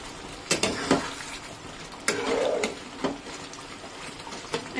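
Potol and mung dal cooking in a pan are stirred with sharp spoon scrapes and clacks against the metal, several separate strokes over a faint sizzle.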